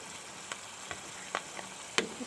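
Quiet low sizzle of a dish frying in a pan with green chili, punctuated by several soft spoon scrapes and taps as it is stirred, close but faint, no talking.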